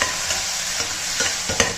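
Tomatoes sizzle steadily in a hot pan while a spoon stirs and scrapes now and then.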